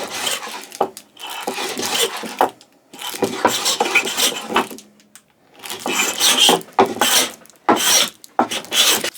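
A Melbourne Tool Co. cabinet scraper rasps across lubricated wood in repeated heavy strokes, each a scratchy burst of about a second separated by short pauses, close and loud.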